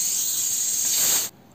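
A pressure cooker on the stove, cooking tiffin sambar, lets off a steady, loud, high steam hiss that cuts off abruptly near the end, leaving a quieter background.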